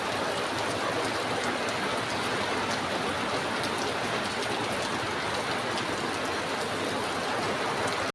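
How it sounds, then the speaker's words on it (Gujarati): Heavy rain pours steadily for the whole stretch, a dense, even hiss of drops hitting surfaces, loud and close with no voices over it. "એટલો વરસાદ આવે છે ફૂલે ફૂલ."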